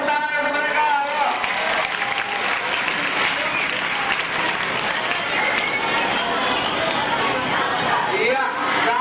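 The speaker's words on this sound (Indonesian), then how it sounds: "Tepuk tangan untuk mereka." A school orientation crowd claps continuously and loudly throughout, a dense, even wash of applause with faint chatter and a few voices mixed in.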